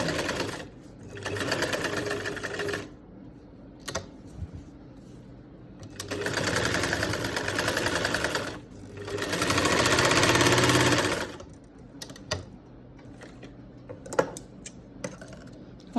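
A sewing machine stitches a back neck facing on a garment in three long, loud bursts, with short pauses and small clicks of handling between runs.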